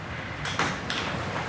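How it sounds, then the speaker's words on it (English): A bathroom door pushed open by hand at a crime scene, giving two soft scraping swings over steady background hiss with no talking. "So this is pushing the door open with your left hand"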